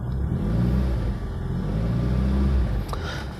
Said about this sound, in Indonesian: Coba kita gas-gas.